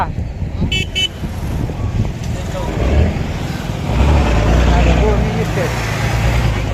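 Vehicles squeeze past on a narrow road crowded for a village fair, with rumbling engines, a short horn toot early on and a heavier vehicle growling louder toward the end, all under people talking nearby.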